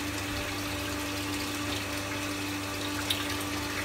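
Water rushes steadily through a pump and heat exchanger pipework with a constant mechanical hum underneath, a continuous flowing sound without pauses.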